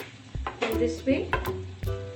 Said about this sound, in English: And we will mix it really well